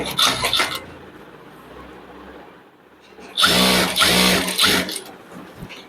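A sewing machine stitches the lightly folded hem of a girl's skirt in two loud, fast bursts of rapid mechanical clatter, with a quieter pause between them.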